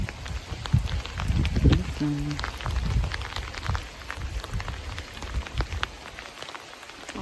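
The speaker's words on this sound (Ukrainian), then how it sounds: "Дощ не припиняється. Дощ падає, небо затягнулося" Heavy rain patters densely on surfaces nearby in a village, a steady hiss of drops with a brief murmur of voices early on.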